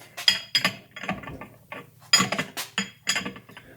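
Two wrenches hooked together work a BMW Airhead motorcycle transmission, giving a series of sharp, close metallic clicks and ratcheting bursts in irregular clusters, with short pauses between them.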